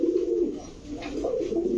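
Large racer, Lahori and Bombay pigeons in a dealer's stock coo in soft, low, repeated warbling phrases, close and clear, with no talk over them.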